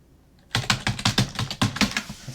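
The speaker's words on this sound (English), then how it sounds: "that's one cheap keyboard." Fast, loud clacking keystrokes on a cheap computer keyboard, a close burst of about a dozen sharp taps after a brief quiet start.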